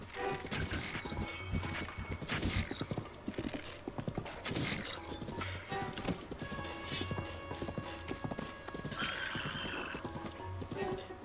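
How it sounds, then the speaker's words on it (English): In the Zelda: Breath of the Wild video game, a horse's hooves clip-clop in a steady rhythm while it neighs and whinnies, with game music and effects layered underneath. "The horse makes everything so much easier."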